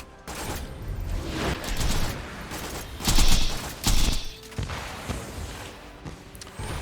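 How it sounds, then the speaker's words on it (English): Spider tanks launch rockets at the player in the shooter Borderlands, a barrage of whooshing launches and explosive bursts with clanking mechanical thuds, loud and uneven with several heavy peaks amid ongoing combat. "I didn't know the leg section of those spider tanks can still launch rockets at you"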